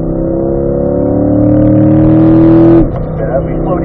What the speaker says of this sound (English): accelerating, upshift to fifth gear.